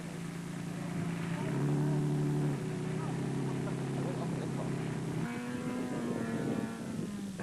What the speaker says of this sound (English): To slow over the sand, and you get stuck and rev, rev, and rev.